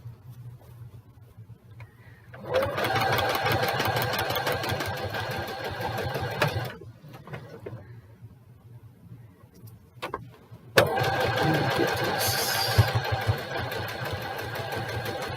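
A sewing machine quilting at a lower speed runs in two sustained bursts of fast, even needle chatter with a mechanical hum, separated by a quieter pause of light handling noise, heard up close.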